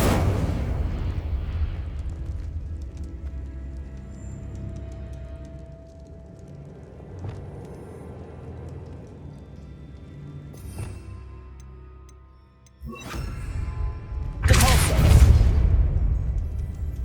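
Confringo and Incendio spell blasts from the Hogwarts Legacy video game, heavy rumbling booms over a steady low drone, with a sharp burst near the end followed by a loud fiery roar.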